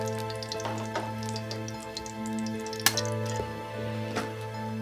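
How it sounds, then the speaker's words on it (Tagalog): Eggs frying in a pan at home, with a steady sizzle, scattered crackles and pops running throughout and one sharper pop partway through. "Ito, nagpiprito ako ng itlog."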